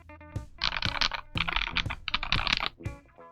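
Close, loud typing on a NuPhy Halo65 V2 mechanical keyboard with slider-scoop keycaps, in fast bursts of clacky keystrokes with brief pauses between runs, alone without talk.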